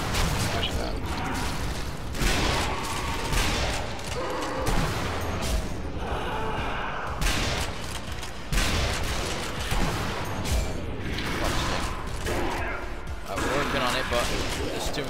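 Shotgun and other gunfire in the video game Sniper Elite: Nazi Zombie Army co-op, dense repeated blasts and impacts throughout, with players talking over the action.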